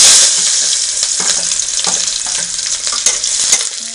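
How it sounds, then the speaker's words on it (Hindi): Onions fry in a pan with a loud, dense, continuous sizzle, broken by the repeated scrape and knock of a spatula stirring them, close to the listener. "प्याज को चलाएंगे, इसको ब्राउन होने तक छोड़ देंगे।"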